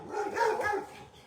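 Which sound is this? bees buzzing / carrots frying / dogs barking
dogs barking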